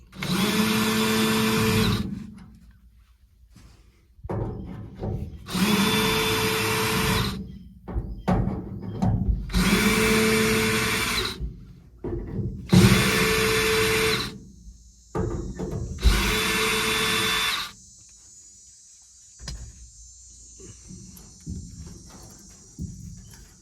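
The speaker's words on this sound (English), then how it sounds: "I just put them on my drill" A power drill removing bolts from a 1967 Ford F100 fuel system whirs in five separate bursts of a couple of seconds each, close by, with clinks and handling noises between runs and a faint high whine later.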